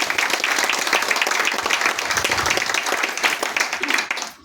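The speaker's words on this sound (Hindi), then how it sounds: "आप लोग अपने आप के लिए एक बार जोरदार ताली बजा सकते हैं" An audience at a Saahas gathering gives loud, sustained clapping and applause that continues steadily for several seconds before tapering off.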